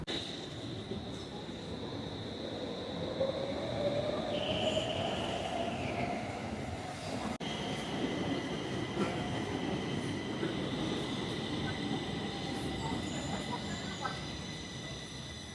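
A Stockholm metro train runs close by with a loud, continuous rumble of wheels, and squealing tones rise, drop and hold steady over the full stretch.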